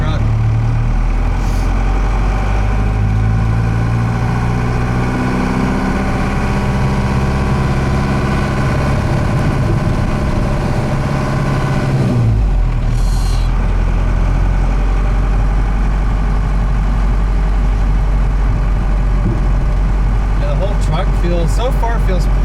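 A Cummins-powered truck with no bumper or exhaust idles close by, a steady deep rumble with low harmonic drones that shift partway through and continue unbroken to the end.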